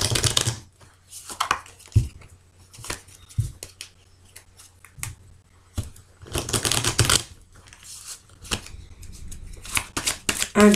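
Oracle cards being shuffled by hand: close papery riffles, flicks and rustling in irregular bursts, with quiet gaps between them and no talking.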